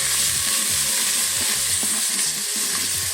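Garlic and ginger sizzle loudly in leftover pork fat inside an Instant Pot while an Asian braised pork shoulder is being prepared, with a steady hiss and repeated stirring scrapes throughout.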